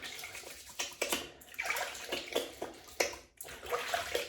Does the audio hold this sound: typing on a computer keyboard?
no